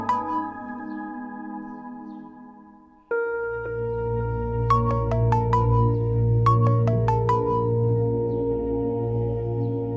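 A phone's ringtone plays for an incoming call in a Pakistani TV drama scene, a steady melodic tone that shifts into a louder, fuller passage with bright chiming notes partway through, alone without speech.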